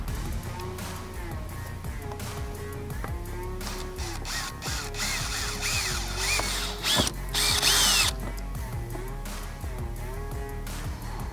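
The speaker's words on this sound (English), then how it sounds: "we're going to go ahead and drill those holes" A power drill whines in repeated bursts, revving up and down as it bores holes for mounting a center console MOLLE panel in a second-generation Toyota Tacoma, close and loud with short pauses between runs.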